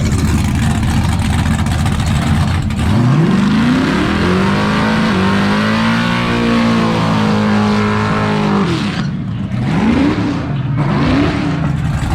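A turbocharged Cadillac CTS-V with a 427 engine and 102mm turbo accelerates hard on a race track, its loud roaring engine climbing in pitch through long pulls, then shifting and rising again, heard up close.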